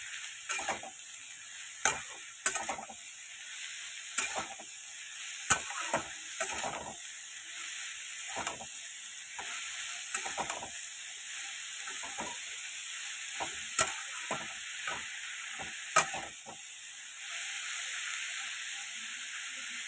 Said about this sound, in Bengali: ভাজা হতে থাকুক।